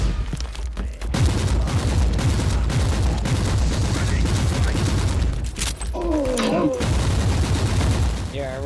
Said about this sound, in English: Yeah, rapid fire.